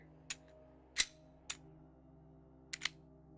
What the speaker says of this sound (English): that was a failure to eject, an FTE